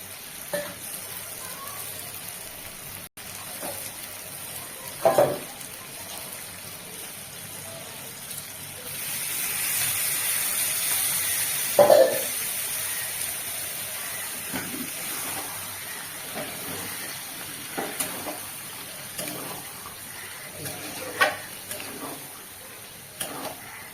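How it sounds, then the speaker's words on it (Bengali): Onion and capsicum frying in oil in a pan for paneer do pyaza, a soft steady sizzle that swells midway, broken by occasional clinks and scrapes of stirring. "এবারে দিয়ে দেবো পেঁয়াজ আর ক্যাপসিকাম"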